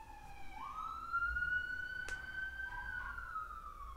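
A police car siren wails through a neighborhood, a rising and sweeping tone heard from a moderate distance over faint background hum, with one short sharp click partway through.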